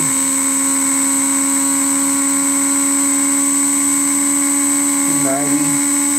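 MagSpinner 1.2 pulse motor with new suspension spinning at around 15,900 RPM, a steady high-pitched electric whine with strong tonal hum that holds continuously, with a brief wavering shift near the end.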